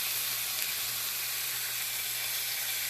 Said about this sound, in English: just let that sit and sear